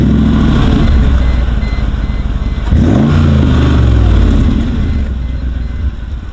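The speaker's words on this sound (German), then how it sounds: "Geräusche geht natürlich weiter beim Auspuffsound, wollt ihr alle hören" A Mercedes G-Class AMG SUV engine idles loud and close with a rough rumble, then revs up briefly and settles back down, exhaust note prominent throughout.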